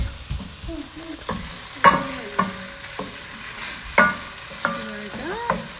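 Onions and meat frying over very high heat, a constant hiss broken by repeated scraping strokes of a utensil against the pan, close and rhythmic.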